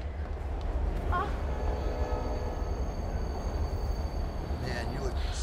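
A subway train rumbles continuously below a street grate, a steady low roar filling the whole stretch with faint squeals above it.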